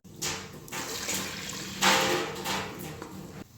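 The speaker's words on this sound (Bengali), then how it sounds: "এর সাথে আমি এবার গরম পানি দিয়ে দিচ্ছি 2 কাপ।" Hot water poured onto fried rice for pulao in a rice cooker gives a short, soft splashing rush that swells midway and then trails off, close and fairly quiet.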